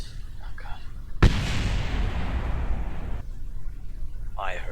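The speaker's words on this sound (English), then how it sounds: "I heard some explosions." A sudden sharp blast followed by two seconds of dense rumbling roar in Kerbal Space Program, then quieter background with a brief voice at the end.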